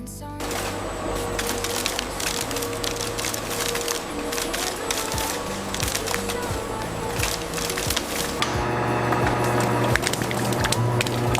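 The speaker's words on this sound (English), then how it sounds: "we add the dressing and toss it with the wooden spoons until everything is evenly coated" Salad is tossed with wooden spoons, making a busy stream of close wooden clacks, scrapes and crisp rustling that stays dense and fairly loud throughout.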